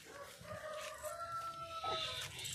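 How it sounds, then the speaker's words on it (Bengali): A chicken gives a drawn-out crowing call with a few clucks, moderately close, alone with faint background noise and no talking. "মুরগি ডাকছে"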